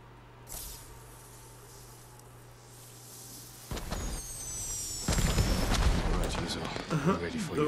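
Alarm rockets shoot up and burst in Ghost of Tsushima, sharp hissing whistles and crackling pops building louder after a quieter stretch, with people talking over parts of it.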